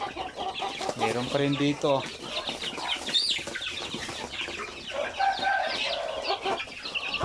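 Hens cluck in bursts among a flock of backyard chickens, close and lively, with a brief flutter of wings. A person talks over and between the clucks.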